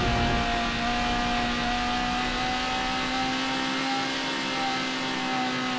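Lotus Elise engine in Need for Speed HP2, a steady mid-pitched drone held at high revs, with a faint pitch drift and a continuous whine, sounding alone and fairly loud throughout.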